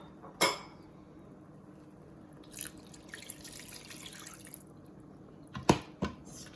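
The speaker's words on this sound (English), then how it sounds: "we're going to add the rest of the water." Water is poured into a pan of rib pilaf with rice and meat, giving a splashy burst, a trickling stretch and a couple of sharp pan clinks, close and fairly quiet.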